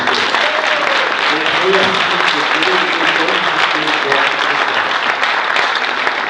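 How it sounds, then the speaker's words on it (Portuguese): An audience in a São Paulo city council chamber applauds during a tribute event, steady loud clapping from many people lasting the whole stretch, with a few voices and cheers mixed in. "quero dar uma salva de palmas para o Pedro Guida"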